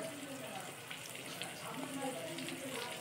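Jackfruit seeds frying with salt, turmeric and Kashmiri chilli powder, a faint steady crackling sizzle with light spattering, a voice talking over it.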